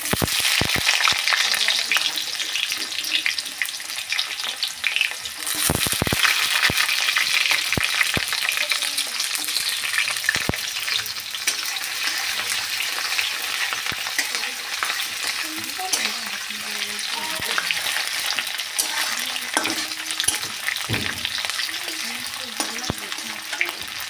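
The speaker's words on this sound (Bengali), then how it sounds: "এবার ঢেলে দিব পেঁয়াজ কুচি।" Chopped onion hisses and crackles loudly in a hot pan, a dense continuous sizzle broken by a few stirring scrapes, with no talk.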